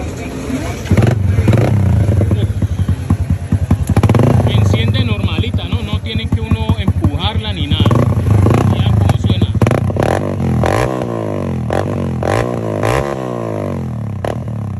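A Yamaha Crypton FI 200cc motorcycle engine fires up and runs loud and close, revving repeatedly with rough, rattling bursts and a few clattering knocks.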